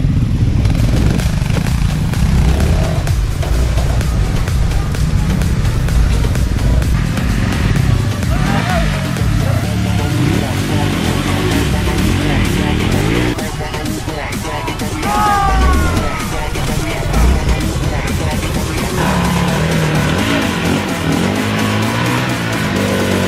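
Honda ADV 350 scooter ridden off-road on rough terrain, a loud, constant engine drone with rattling and wind buffeting throughout, while the rider talks over it.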